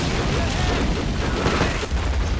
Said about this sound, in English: a lot of that artillery, man, it's amazing how it finds its target